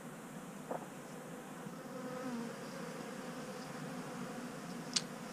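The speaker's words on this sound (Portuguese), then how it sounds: "dessa vez as abelhas africanas vieram" Africanized honeybees buzz softly around ora-pro-nóbis flowers outdoors, a steady faint hum with a couple of brief closer passes standing out.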